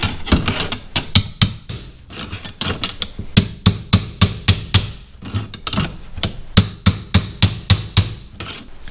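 Hammer tapping a new axle seal into place on a Ford 8N tractor, working around the seal's outer edge: a steady run of sharp, close metallic taps in quick clusters, loud and without talk.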